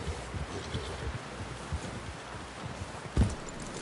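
Horse hooves clip-clop at a walking pace in Red Dead Redemption 2, a steady run of soft, fairly close hoofbeats over ambient rustle, ending in one louder thud.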